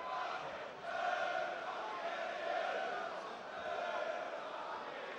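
A large boxing crowd at an April 2013 arena fight in England roars and cheers steadily as the next fighter heads to the ring, a continuous dense wash of voices swelling in waves with no break.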